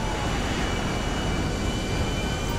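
A jet airplane in GTA Online, heard as a loud, continuous engine roar and rushing wind that holds steady throughout with no talk.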